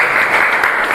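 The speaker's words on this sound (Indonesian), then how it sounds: "Aplaus untuk kelompok 3." A group claps for group 3 in an online class, a steady burst of close applause filling the whole moment without pause.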